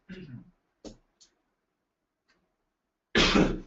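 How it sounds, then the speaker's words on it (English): A couple of short coughs and throat sounds break a near-silent pause, ending with a louder burst close to the microphone. "I needed to take a quick cough break there."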